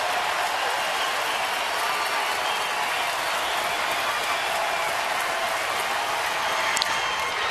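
Baseball stadium crowd standing and cheering at a Cleveland Indians game in Houston, a steady, loud roar of applause and cheers that holds for several seconds with no talk over it.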